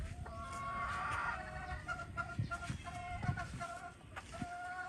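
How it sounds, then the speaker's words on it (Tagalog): Breeding hens at a gamefowl farm's breeding station clucking in repeated short calls, with rooster-like tones mixed in, close and fairly steady over outdoor background noise. "Ito yung mga inahin niya, guys."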